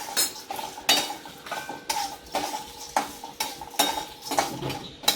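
Sesame seeds and Byadgi chillies dry-roasting in a pan while a spatula scrapes and stirs them, giving repeated scratchy strokes with light clinks against the metal and a faint crackle between them, all fairly close.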